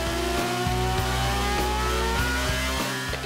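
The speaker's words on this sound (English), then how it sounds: "When you hear those 20, 22 cars leave the line, you know, each of them with 700, 800 horsepower" Around twenty Formula One cars, each with 700 to 800 horsepower, roar off the starting line in a loud, continuous high-pitched engine wail, with rhythmic gear-change dips as they accelerate away; no talking.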